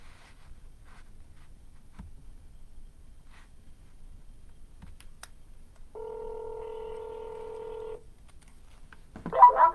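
Telephone keypad tones dial a number for a cold call: a few faint, brief beeps early on, then one long steady dual-pitch tone lasting about two seconds, followed by a short burst of sound.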